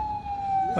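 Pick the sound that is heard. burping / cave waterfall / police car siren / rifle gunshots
police car siren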